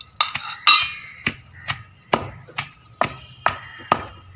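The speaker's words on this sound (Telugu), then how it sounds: "ఇంక ఇప్పుడు అన్ని దొండకాయలు వేసి దంచుకోవాలి." Raw ivy gourds with cumin and salt are pounded in a sun-warmed mortar, about ten sharp, evenly spaced thuds with faint clinks, close and clear.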